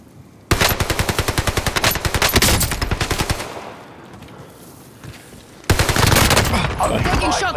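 Rapid automatic gunfire in a Call of Duty game: a fast, loud burst of machine-gun shots, then a quieter stretch with distant noise and some speech, followed by another dense burst of firing.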